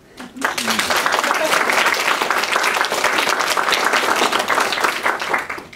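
A conference audience breaks into applause, a loud, close burst of dense clapping that swells in quickly and holds steady before easing at the end.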